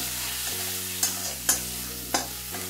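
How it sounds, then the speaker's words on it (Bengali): Spices and a little turmeric lightly frying in a pan for a beet and carrot curry, a steady sizzle broken by four sharp spoon scrapes and knocks against the pan. "এইগুলো একটু হালকাভাবে একটু ভেজে নিচ্ছি। সামান্য একটু হলুদ দিয়ে দিলাম"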